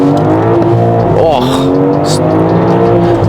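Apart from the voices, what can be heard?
BMW M440i engine accelerating at full throttle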